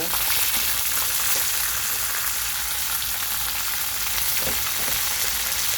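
Sitaw (string beans) frying in a pan, a constant bright sizzling hiss that holds evenly throughout with faint stirring underneath.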